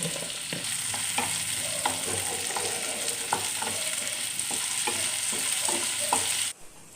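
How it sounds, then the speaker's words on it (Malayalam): Onions sautéed with salt in a pan for tomato chutney: a steady close sizzle marked by regular spatula scrapes about every half second, cutting off sharply near the end. "ഇതിലേക്ക് കുറച്ച് ഉപ്പ് ചേർത്ത് നമുക്ക് നന്നായിട്ടത് വഴറ്റിയെടുക്കാം"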